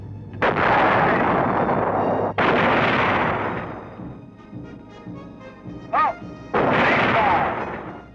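A tank's main gun fires during a crew qualification course against moving targets, with three heavy booming blasts spaced a few seconds apart, each with a long rolling decay.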